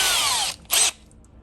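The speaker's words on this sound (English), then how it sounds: "Okay, a little bit smaller drill for this." A smaller power drill fitted with a 1/16 inch bit whirs at high speed for about half a second, stops, then gives a second short burst, loud and close with no talk.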